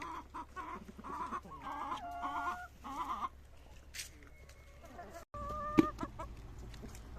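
Chickens cluck and call repeatedly at close range on a rural farm in the morning, with a steady low background hum. A person speaks briefly near the end.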